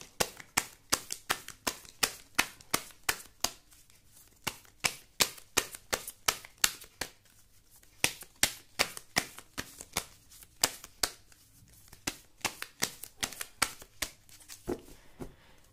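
Tarot cards shuffled by hand in a steady run of crisp, close riffling snaps, repeating rhythmically for the whole stretch with only brief pauses and no voices.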